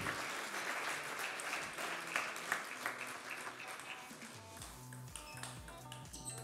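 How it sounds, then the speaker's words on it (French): Applause from a small audience at a table tennis session, a dense patter of clapping that thins out as a low bouncing tonal sound comes in near the end. "ça mérite encore quelques applaudissements"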